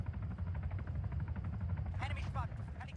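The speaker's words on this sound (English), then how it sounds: "his helicopter's a little too close" A helicopter flies close overhead in a military video game with armored vehicles and anti-air turrets, giving a steady low rotor thrum throughout, while game effects and talk sit on top.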